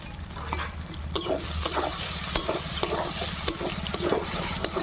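Spice paste with ground dried red chili and chopped tomato stir-fried in a pan for chicken chow mein. A continuous wet sizzle runs under rhythmic spatula scrapes and taps, roughly two per second, close and moderately loud.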